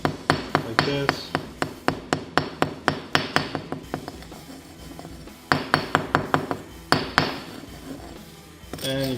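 A hammer knocks hardened spackle off a concrete house foundation: a long run of sharp, ringing metallic strikes in a fast, steady rhythm, close and loud, with a brief pause midway before the blows resume.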